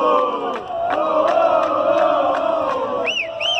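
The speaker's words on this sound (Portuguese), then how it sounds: "torcedor Santo André fazendo a festa aqui no Canindé" Santo André football fans chant and roar together at Canindé stadium during a Copa São Paulo match against Paraná, a loud sustained crowd with rhythmic sung cheering and a couple of high whistles near the end.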